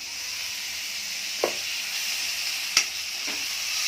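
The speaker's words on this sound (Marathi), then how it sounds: "चांगलं परतून घ्यायचं तेलात आणि मग टोमॅटो टाकून घ्यायचं।" Tomatoes frying in hot oil in a pan give a steady, hissing sizzle, with a couple of brief stirring clicks, close and alone without talk.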